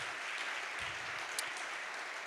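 Audience applause for a doctor being introduced on stage at an anniversary celebration in Pisa, a steady, fairly faint wash of clapping throughout.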